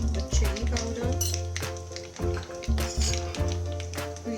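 Spices for rasam, including asafoetida, turmeric and chili powder, being mixed in a pot, with a spoon clinking and scraping against metal over a faint sizzle, close up and rhythmic.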